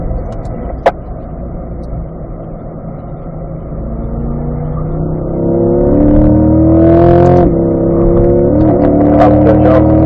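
A Ron Fellows C8 Corvette engine on a race track drones steadily up close, then swells into a rising rev as the car downshifts to third and powers out of a banked bowl, holding a strong, close roar.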